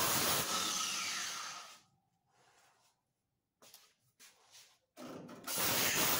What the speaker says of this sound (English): Don't want to have any mishaps with the grinder, with the cutoff wheel.